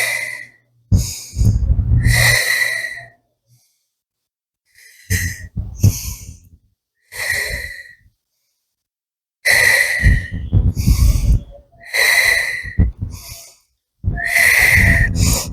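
Loud, heavy breaths sound close during a yoga workout on a bench, coming in uneven bursts of forceful, wheezy inhales and exhales with short silent gaps between them.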